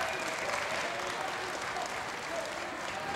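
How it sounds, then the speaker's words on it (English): Applause from the Pennsbury crowd at a high school boys basketball game as a substitute comes off the court, a steady, dense clapping filling the gym for a few seconds at even loudness. "He gets a big hand from the Pennsbury crowd."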